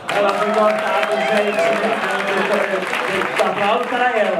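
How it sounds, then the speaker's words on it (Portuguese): Crowd at a vogue ball hands performance in Belo Horizonte claps and cheers for a performer, loud and continuous, mixed with music and an amplified voice talking over it. "Give her a round of applause."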